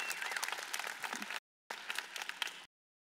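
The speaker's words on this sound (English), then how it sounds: "Let's give him another round of applause." Dense, crackling audience applause fills the hall at a 2016 presidential election forum, loud and sustained, then breaks off abruptly twice into silence.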